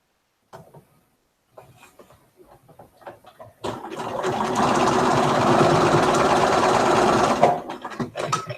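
A sewing machine stitches an Iris Medallion quilt block, first in a few short stop-start bursts, then one long continuous run of rapid, close, loud needle chatter lasting about four seconds before stopping.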